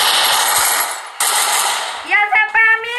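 Loud bursts of automatic gunfire from a shooter video game crackle close up, then give way to a quick series of sharp electronic blips and tones.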